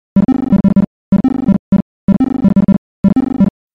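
Chiptune drum part played on an 8-bit triangle wave channel in OpenMPT, a tracker: short pitched thumps in quick repeating bursts of four groups, each a fast stuttering roll of tonal hits with clean gaps between, loud and alone.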